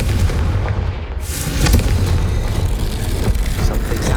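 A Confringo explosion spell in Hogwarts Legacy bursts loudly with a heavy boom, followed by rumbling, crackling debris and sustained low roar that fills the rest of the moment.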